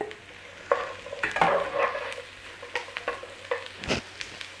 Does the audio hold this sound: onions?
yes